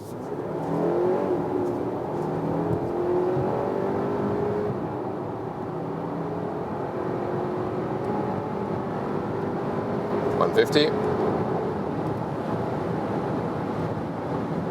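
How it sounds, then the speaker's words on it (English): Audi Q5 Sportback PHEV plug-in hybrid SUV accelerating hard from 50 km/h, a steady engine drone rising gradually in pitch with wind and road noise throughout, heard from inside the cabin. "here with the Audi Q5 Sportback PHEV from 50 kilometers an hour. Acceleration, let's go."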